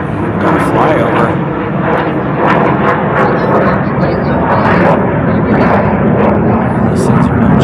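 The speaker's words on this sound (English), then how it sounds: "Got a flyover." A fixed-wing airplane passes overhead during a garage sale outing, its loud, steady broadband engine roar filling the whole stretch without fading, with people talking faintly underneath.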